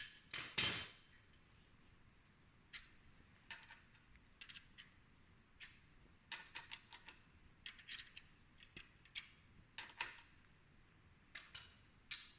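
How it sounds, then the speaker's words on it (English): Sharp metallic taps of a hammer driving a chisel while working on a Suzuki Marauder motorcycle during valve adjustment, at irregular intervals, fairly faint and isolated against a quiet background. "just take a chisel and put it right on there and hammer in the direction you need to go"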